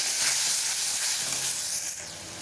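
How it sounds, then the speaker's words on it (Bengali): Spices added to hot oil with browned onions for a snakehead fish curry give a loud, steady, hissing sizzle that eases slightly toward the end. "মশলাটা দিয়ে দিচ্ছি।"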